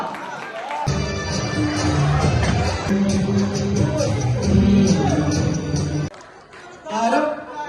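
Audience at a Christmas celebration stage program applauds and cheers in a sustained burst, with a voice on a microphone speaking over the crowd noise.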